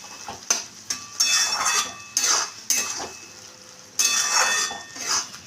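Fried okra and potato stirred in a pan, a spatula scraping and clinking against the metal in bursts over a soft sizzle, close and fairly loud, with short pauses between strokes.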